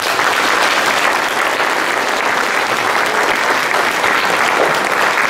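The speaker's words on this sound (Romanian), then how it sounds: "pe care vă rog să-i mai aplaudați încă o dată" Sustained audience applause for a church Orthodox choir at a Christmas carol concert, dense and steady clapping filling the whole stretch with no talk over it.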